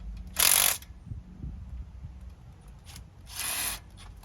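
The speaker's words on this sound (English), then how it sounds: "It's a little baby impact wrench." A small cordless impact wrench works the locking hub bolts on a vehicle, firing two short, loud, buzzing bursts about three seconds apart, with faint clicks and handling noises in between.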